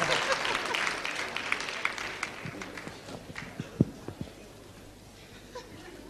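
Applause from a concert audience in Brussels in 1974 for a singer, heard as a dense patter that gradually thins and fades, with a few sharper individual claps and knocks near the end.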